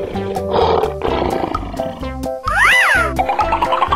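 A lion roars in the video game Animal Revolt Battle Simulator with loud, rough, growling bursts, and a short rising-and-falling tonal game effect cuts in partway through.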